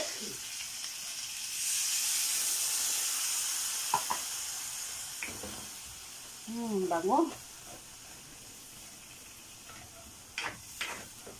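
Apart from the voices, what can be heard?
adobong manok with saba simmering in a pot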